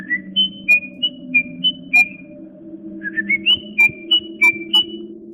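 A person whistles a bouncy, cartoonish tune of short, clear notes in two quick phrases, with a steady low hum underneath.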